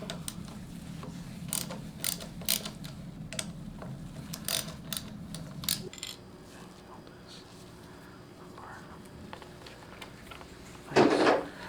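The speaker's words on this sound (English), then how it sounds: "8mm socket, we're just going to break these." An 8mm socket ratchet breaks loose the clutch lever bolts on a 2022 Honda Grom, clicking in quick close bursts for several seconds before a quieter stretch, with a voice in the background.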